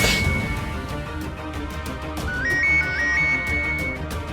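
A phone ringtone plays in a tense office scene as a police inspector takes a call, a bright electronic melody of rising and stepping tones rising over a busy background for a few seconds.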